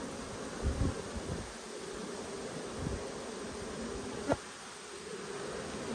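Honey bees buzz steadily around a nucleus hive, a continuous insect drone filling the air with a single brief sharp knock partway through.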